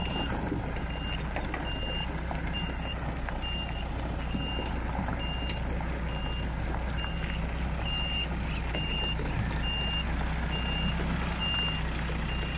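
A lorry reverses with a steady electronic reversing beep repeating at an even pace over a continuous low diesel engine rumble, with the beeps fairly close and clear.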